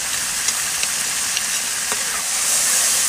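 Spices and pork belly stir-fried in hot lard and soybean oil in a wok, a loud, continuous sizzling hiss with faint scraping clicks of stirring, close by and without talk.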